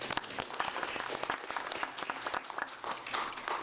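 An audience at a panel event on remembrance and preventing mass atrocities applauds the panelists with steady, dense clapping, moderately loud and sustained throughout.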